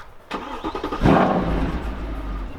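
A Mercedes-AMG C63 engine cranks briefly, then fires up with a loud roar that settles into a deep, steady rumbling idle close by.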